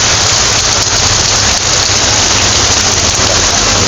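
Heavy, unrelenting rain pours down in a steady, dense roar after two days of downpour with flooding, loud and close with no voices.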